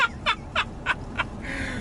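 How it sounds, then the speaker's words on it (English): An old car horn sounds in a rapid series of five short, warbling honks, then one longer held tone, over low engine rumble. "Give the horn a sound."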